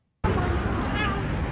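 A cat meows in a short clip played back over a livestream, with the meow heard amid a busy background of voices and speech babble, close and loud after an abrupt start.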